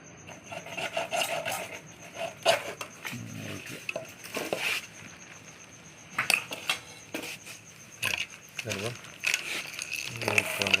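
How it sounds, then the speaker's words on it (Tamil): Pipe being cut to build a fishermen's spinning wheel, with rasping, scraping strokes in irregular bursts, some clanks, and people talking over and between the cutting. "இப்போ வரைக்கும் கட் பண்ணுற ப்ராசஸ் நடந்துட்டுருக்கு"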